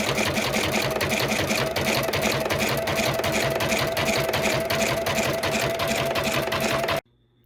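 An embroidery machine runs a dense satin stitch edging on minky fabric for an in-the-hoop paw Christmas stocking, a fast even needle chatter with a steady hum that stops abruptly near the end.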